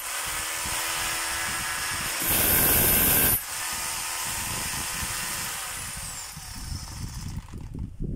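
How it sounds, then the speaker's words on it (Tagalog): A power drill switched to hammer mode runs with a steady whirring buzz, louder for about a second in the middle, then keeps running at an even pitch before slowing near the end, heard up close with no talk. "Okay pa yung hammer, drill, reverse, okay din mga kabay"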